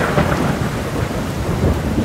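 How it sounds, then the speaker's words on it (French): Loud, dense rain pours down with deep rolling thunder rumbling underneath, a heavy storm close around the listener. "Un violent orage éclate."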